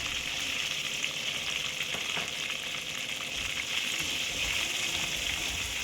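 Garlic frying in hot oil for tempering a mango-ginger pickle, a steady, close, continuous sizzle and crackle with no voices.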